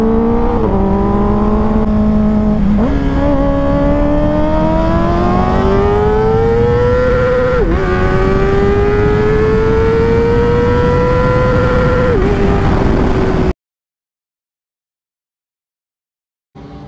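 A Kawasaki ZX-4RR sportbike in sports mode on the Batangas Racing Circuit track, revving hard in first gear toward 16,000 RPM. Its loud, close, shrill engine note climbs in stepped surges for about thirteen seconds, then cuts to silence before a brief return.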